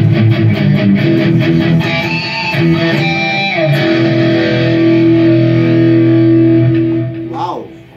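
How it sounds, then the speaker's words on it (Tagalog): A Fender Telecaster Custom made in Japan plays chords through heavy distortion, loud and sustained, ringing out and then fading with a brief squeal of feedback at the end. "Ngayon medyo heavy ang distortion natin."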